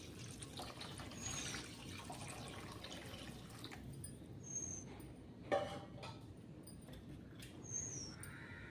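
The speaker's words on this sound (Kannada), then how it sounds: "ಸ್ವಲ್ಪ ನೀರು ಹಾಕ್ಕೊಳ್ಳಿ" Water added to a pan of tomato rasam: a soft, steady pour with scattered drips and one sharper splash partway through, quiet and close with no voices.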